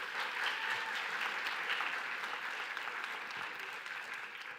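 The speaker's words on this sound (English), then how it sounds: "Another round of applause for Dr." Sustained applause from a large commencement audience, loud and steady from the start and tapering slightly toward the end, a dense wash of many hands with no voices above it.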